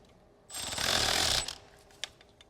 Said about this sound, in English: these Milwaukees are all right, but I don't feel like they have a whole lot of torque